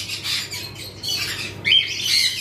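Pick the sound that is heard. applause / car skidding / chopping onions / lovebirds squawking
lovebirds squawking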